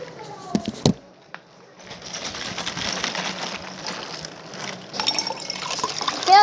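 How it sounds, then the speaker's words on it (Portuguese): Water trickling and sloshing as someone drinks, close and fairly loud, with a few brief clicks early on and a steady, uneven liquid gurgle after that. "Vamos escutar o barulho da água."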